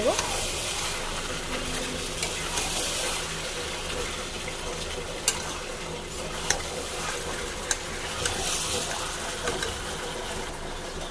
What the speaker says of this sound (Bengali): এবার চিকেন ভালো করে মশলার সাথে কষিয়ে